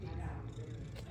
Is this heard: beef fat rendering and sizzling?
no